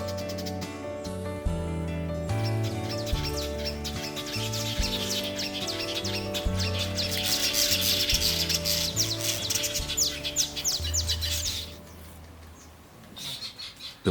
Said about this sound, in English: The weaver are seen starting their nests by the waterside of the park.